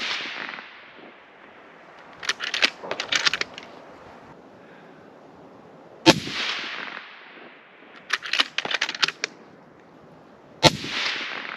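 Ruger precision rifle fired outdoors, two sharp loud cracks several seconds apart, each trailing off in a long fading echo, with bursts of clattering handling noise in between.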